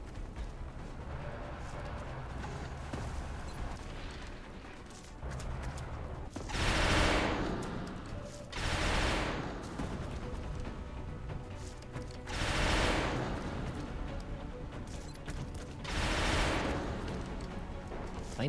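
Bursts of gunfire in the turn-based strategy game XCOM: Enemy Unknown, four loud broadband volleys spaced a few seconds apart over a steady low background.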